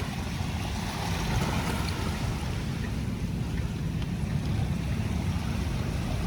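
Sea waves wash continuously onto the shore at Manila Bay's Dolomite Beach, a steady low roaring surf with no distinct breaks, heard from nearby.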